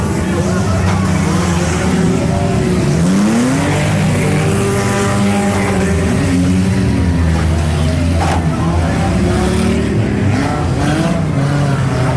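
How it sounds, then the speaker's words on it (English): Junk cars race on a muddy dirt track at the West End Fair, engines roaring and revving loudly near a corner, pitch rising and falling as cars accelerate past, with crowd noise and voices mixed underneath. "Junk car racing time."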